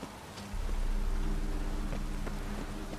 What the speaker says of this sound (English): Ah, it's raining out here.